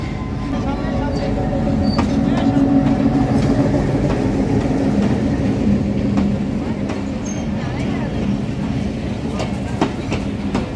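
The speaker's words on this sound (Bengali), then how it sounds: "প্রায় ঘন্টা দেড়েক লেটে 5:30 নাগাদ ট্রেনটি ঢুকলো।" A local train rolls into a station with a loud, steady rumble and rhythmic clickety-clack of wheels on rail joints, close by and sustained throughout.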